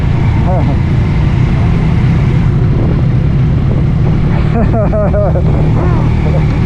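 Motorcycle engines rumble loudly and continuously nearby as they ride in, with people talking and laughing over the noise.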